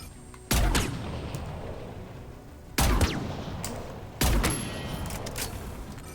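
Heavy gunfire from the Mass Effect 3 video game, with three loud booming volleys at roughly even intervals, each trailing off into a rumbling decay over a low background of combat noise.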